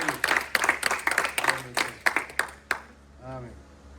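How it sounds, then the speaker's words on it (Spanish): Church congregation applauding at the close of a worship service, a burst of scattered claps mixed with voices talking and calling out, fading after about three seconds to a short spoken word. "con este aplauso de la congregación"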